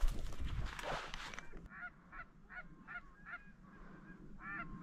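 A big flock of geese honking overhead on a duck and goose hunt at Summer Lake, Oregon: repeated loud nasal honks, several overlapping at first, then a steady run of separate calls with breaks between them.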